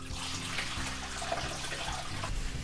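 Water poured into a front load washing machine that won't drain, a steady close splashing rush running throughout with no voices.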